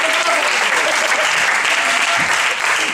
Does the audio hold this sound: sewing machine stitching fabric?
no